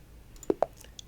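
Two quick, crisp mouse clicks close together, near and fairly soft, pressing a play button on an online chess site, followed by faint small interface ticks.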